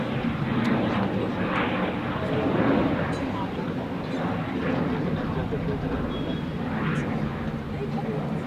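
Jet airliner at Zurich Airport, an American Airlines plane lining up on the runway, giving a steady, loud broadband engine roar that holds throughout with slight swells.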